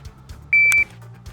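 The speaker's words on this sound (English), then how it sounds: "on the beep" A single sharp electronic beep from a shooting drill timer, clear and loud, lasting about a third of a second against a quiet background.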